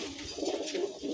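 Highflyer Madrasi pigeons coo in a cage, a steady low warbling murmur of several birds running through the whole brief stretch, close by and fairly even in loudness.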